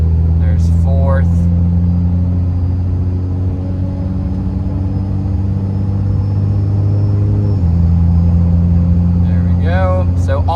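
A truck with a fully built, rebuilt 68RFE transmission drives with a loud, steady engine drone that drops in pitch partway through as the gearbox shifts, with a voice briefly at the start and end.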